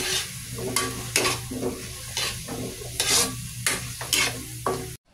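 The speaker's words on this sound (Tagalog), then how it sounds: "At i-continue ulit natin yung paggisa." Squash sautéing in a pan gives a steady sizzle broken by repeated stirring scrapes at a fairly even rhythm, close and clear with no talk.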